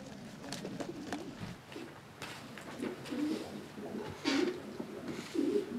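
Soft pigeon coos repeat at an easy pace amid a busy loft, with other birds calling and rustling around them.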